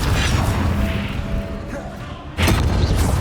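A Confringo fire spell blasts in Hogwarts Legacy as a loud, crunching explosion that crashes in at the start, fades briefly, then bursts again in a sharp second impact with a thudding, roaring body.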